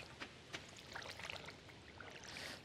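A watering can sprinkles crops in the farming game Stardew Valley, a faint splashing, trickling pour with a few soft droplet ticks, quiet and continuous for under three seconds.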